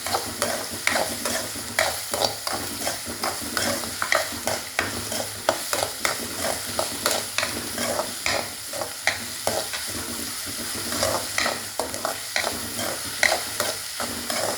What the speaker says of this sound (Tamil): நல்லா வதக்கணும். நல்லா வதங்கட்டும்.